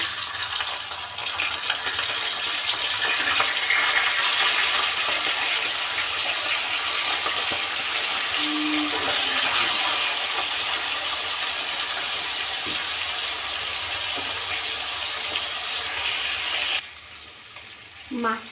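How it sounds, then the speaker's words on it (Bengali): Fish frying in a generous amount of hot oil in a wok, a steady broadband sizzle and crackle running for most of the clip before dropping off near the end. "আমি প্রথমে এই তেলে মাছগুলোকে ভেজে নেব"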